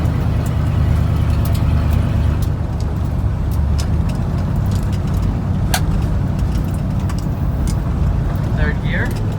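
An old project truck's engine runs steadily while driving, a constant mid-low rumble with small shifts in tone as gears change, heard close from inside the cab.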